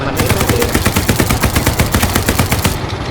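Rapid, loud machine gun fire in the Hell Let Loose video game, a dense continuous burst of sharp repeated shots running steadily for a few seconds without talk.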